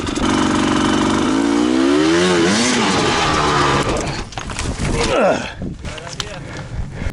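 A KTM 300 XCW two-stroke dirt bike revs hard and close on a mountain climb, its engine pitch rising and falling in sweeping bursts, then sputtering and roughening toward the end, with a voice briefly heard over it.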